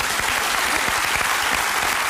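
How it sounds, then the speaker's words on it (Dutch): A TV quiz show studio audience applauds politician Raoul Hedebouw, loud, dense, continuous clapping close by without a break. "Ja, nog nooit zoveel applaus gehad als politicus, denk ik."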